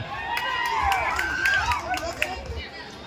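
A crowd at a Kannada Rajyotsava celebration in Goa claps and cheers with scattered whistles, lively and fairly close, with voices mixed into the noise.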